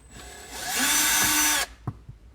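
A power drill or driver spins out a panel screw inside a Land Cruiser cabin, a steady high whine rising and holding for about a second, then stopping with a couple of small clicks nearby.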